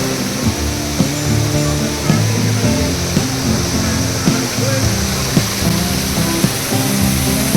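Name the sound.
indoor waterfall inside an airport terminal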